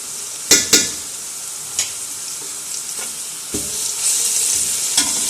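Onion, garlic and crushed whole coriander sauté in hot oil in a pan, with a constant close sizzle broken by several sharp scrapes of a spoon stirring against the pan.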